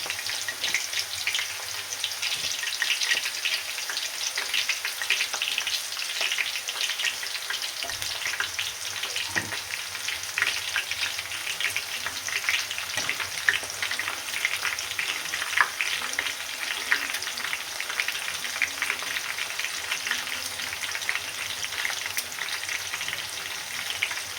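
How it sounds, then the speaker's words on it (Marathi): Sliced onion deep-frying in oil over a high gas flame, a loud, steady, close sizzle and crackle that continues without a break for the whole stretch, with no talking. "गॅस आता आपल्याला हाय फ्लेमवरतीच कांदा आहे आपण पूर्ण तळून घ्यायचा"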